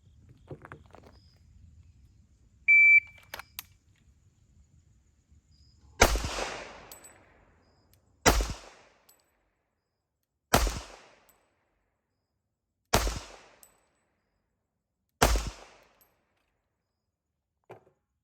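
Five pistol shots drawn from the holster and fired one at a time, evenly spaced about two seconds apart, loud and sharp with short decays, after an electronic shot timer beep and some quiet handling noise.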